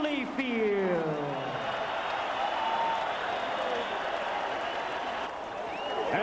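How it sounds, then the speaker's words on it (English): Arena crowd at a heavyweight boxing title fight, Holyfield's upset of Tyson, cheering and applauding the new champion: a loud, steady roar of clapping and shouting that fills the whole stretch, with a voice talking over it. "As this crowd salutes Evander Holyfield, who really was the real deal tonight."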